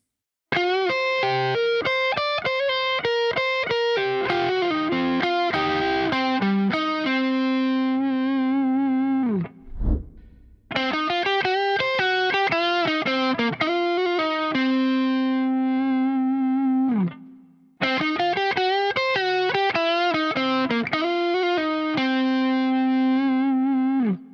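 A distorted electric guitar plays a slow C blues lick three times, each phrase ending on a held, sustained note, with short gaps between.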